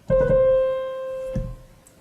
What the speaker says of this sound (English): The lower mordant, or inverted mordant, is the same, but it's just got a line through.